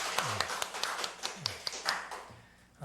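Congregation at a Korean Sunday morning church service clapping in a steady, fairly even rhythm, sharp hand claps repeating for a few seconds over a faint low tonal background.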